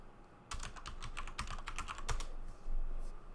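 Numbers are typed into a calculator on a computer keyboard: a quick, close run of about a dozen crisp key clicks spread over roughly three seconds, with no talking.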